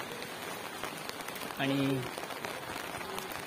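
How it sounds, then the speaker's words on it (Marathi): Steady rain falls at the seashore by Vijaydurg fort during a rough, surging sea, a continuous broad hiss heard throughout, with someone speaking briefly under it. "आज सकाळपासून पाऊस चालू झालेला आहे, तो अद्याप इथे चालूच आहे"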